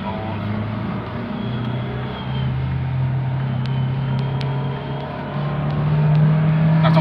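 A 2012 Toyota Avanza engine, freshly flushed and tuned up, pulls in second gear during a throttle test, holding a steady close droning hum that climbs and swells louder toward the end.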